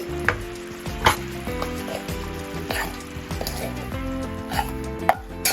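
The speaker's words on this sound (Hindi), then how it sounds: "अब इसमें हम अपने काजू का जो हमने पीसा था उसको डाल देंगे" Ground cashews stirred into sugar syrup in a pan, soft sizzling under repeated scraping and clinks of a spoon against the pan, close and moderate in level, with no voices.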